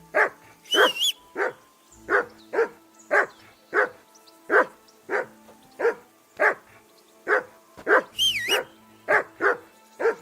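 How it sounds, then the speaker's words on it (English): A dog barks repeatedly and steadily in the video game Kingdom Come Deliverance 2, sharp evenly spaced woofs close by, with a couple of brief higher yelps or whistle-like calls mixed in. "That barking was a pain in the ass."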